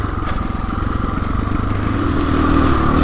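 A 2021 KTM 500 EXC-F dirt bike being ridden, its single-cylinder engine droning steadily and close up, building slightly toward the end.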